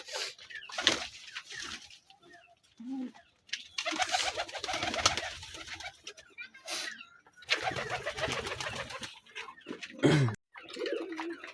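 Giribaz pigeons coo in soft, intermittent bursts with pauses between them, close by and mixed with light rustling and other loft noise.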